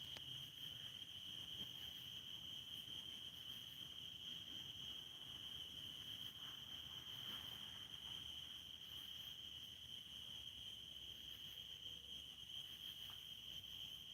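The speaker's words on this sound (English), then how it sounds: "The cicadas are making noise." Cicadas buzzing on a farm, a steady high-pitched drone that holds unbroken throughout, faint and distant with low outdoor rumble beneath.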